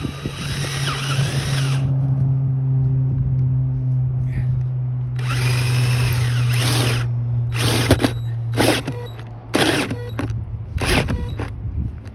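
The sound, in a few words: power drill drilling through insulation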